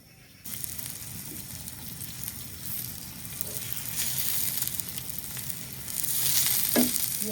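Chap churros with chicken filling frying in oil: a hiss that starts abruptly, then holds as a dense, even sizzle that grows slightly louder toward the end.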